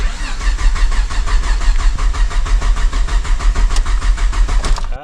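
A car engine cranking but failing to start, the starter motor churning rapidly and rhythmically for about five seconds, loud and close, then cutting off abruptly.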